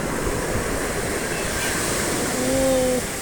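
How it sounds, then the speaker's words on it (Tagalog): Strong ocean waves crash and wash close by in a continuous loud roar of surf, with wind buffeting the microphone and a brief voice near the end. "Ang lakas ng alon."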